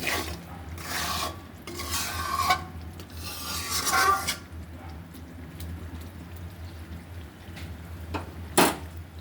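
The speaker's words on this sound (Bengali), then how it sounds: "এই যে মশলা কষতে দিয়েছি" Spice paste (masala) is stir-fried in a pan on a gas stove, heard as several scraping, rasping strokes of a spatula against the pan in short bursts over a low steady flame hum, close by.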